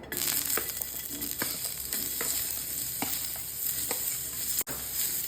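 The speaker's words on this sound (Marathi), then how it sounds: "तेल घालून हे सगळं साहित्य भाजून घ्यायचे। अगोदर कांदा टाकायचा आहे" Onion fries in oil for Maharashtrian shev bhaji, producing a steady close sizzle punctuated by regular scraping stirs of a spoon in the pan.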